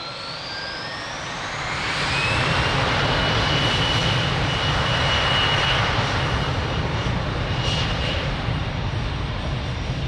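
A passenger airplane takes off from runway 02 at Lisbon Airport, its engine roar swelling after about two seconds into a loud, sustained broadband rumble with no voices.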